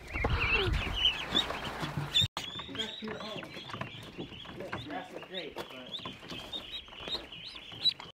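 Ducks and ducklings make busy chirping, peeping and quacking calls close by, with people talking over them throughout.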